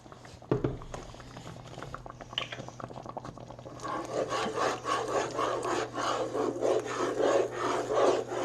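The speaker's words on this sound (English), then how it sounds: "Slowly just kind of stirring while you go." Crab corn chowder with half and half is stirred slowly in a pot, giving a continuous scraping and rubbing sound close by over a low steady hum, growing fuller and busier partway through.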